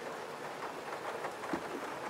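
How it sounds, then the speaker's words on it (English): Heavy rain pours outdoors as an even, steady broadband hiss with no talking. "I don't know if you can hear that rain."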